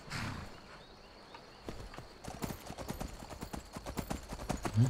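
Horse hooves clip-clop in a steady walking rhythm while riding in the video game Skyrim, starting faint and growing louder and closer as the pace picks up, with no talk over it.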